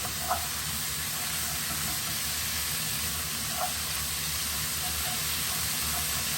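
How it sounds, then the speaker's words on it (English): A faint, steady sizzle of a little oil frying in a pan, a soft continuous hiss with a couple of tiny pops. "A little bit of oil, just kind of frying away."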